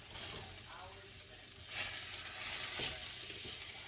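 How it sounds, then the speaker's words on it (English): Cabbage wedges sear in olive oil in a very hot pan, giving a steady, close sizzle and crackle with a few louder spits as the pieces are moved around. "I just want to get a good char on it. So I got a really hot pan. Put some olive oil in it."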